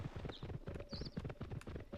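Hooves clip-clop rhythmically as a horse trots in the video game Petz Horsez 2, a steady fast beat of hoof strikes with a couple of faint high whinny-like tones over it.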